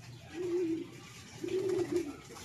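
Two drawn-out pigeon coos, from a bird in a racing-pigeon training setting, each a low soft rolling call about a second long with a short pause between, fairly close over quiet background.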